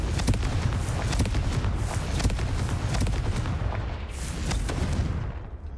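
Repeated fiery blasts from the Confringo spell in the Hogwarts Legacy video game boom in quick succession, a dense, loud barrage of overlapping explosions that rolls on without a pause.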